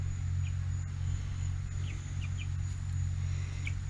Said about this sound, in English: So there's our rooster and 5 egg layers.